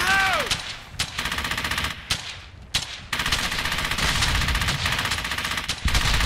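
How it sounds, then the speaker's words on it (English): Loud machine gun fire in the World War II shooter Brothers in Arms: Hell's Highway, rapid sustained bursts broken by single sharp shots and short gaps, with a brief whistling sound at the start. "Take out that machine gun."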